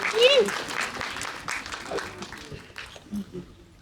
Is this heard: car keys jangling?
no